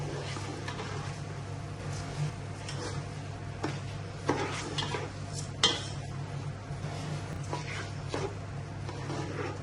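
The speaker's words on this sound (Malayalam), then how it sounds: "അതിലോട്ട് നമ്മൾ കഴുകി വാരി വെച്ചിരിക്കുന്ന ജീരകശാല അരി അതിലേക്കിട്ട് ഇളക്കി കൊടുക്കാം" Washed jeerakasala rice being stirred into hot masala for Thalassery chicken dum biryani, with soft scraping and clinks of a spoon against the pot over a low steady hum and faint sizzle.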